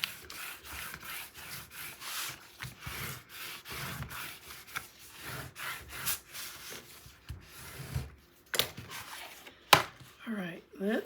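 A tool is rubbed repeatedly across papercraft pieces for a mini album, giving short rhythmic scraping strokes up close with a few sharper knocks and a voice briefly near the end.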